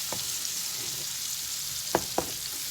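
Onion fries in a pan with a steady soft sizzle, punctuated by a few brief stirring knocks near the end, no voices.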